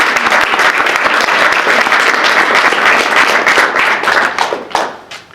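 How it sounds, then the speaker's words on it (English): A room full of people claps for the panel speakers at a startup networking night, dense and loud, with a few last sharp claps trailing off at the end. "let's give these guys a round of applause"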